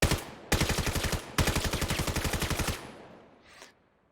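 An MK 418 rifle fires in rapid automatic bursts in the VR shooter Vail, two loud close strings of shots separated by a short pause, then a fading tail and a faint click.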